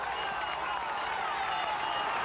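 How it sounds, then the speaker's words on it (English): A huge roadside crowd at the 1997 Vuelta a España cycling race makes a constant, distant roar of cheering and clapping, heard faintly under a commentator's voice. "The enormous crowd here making a tremendous din and encouraging these stalwarts of the road."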